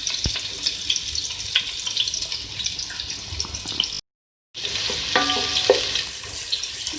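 Sliced onions frying in hot oil over high flame for potato biryani: a dense, steady close sizzle with occasional stirring taps, briefly cut to silence midway, then resuming just as loud, with no talk.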